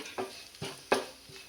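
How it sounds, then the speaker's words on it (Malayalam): Soft scraping stirs grated coconut in a pan, four brief strokes over a faint, quiet sizzle of the coconut frying until browned. "നമുക്ക് ഈ തേങ്ങയെ ഒന്ന് ഫ്രൈ ചെയ്തെടുക്കാം."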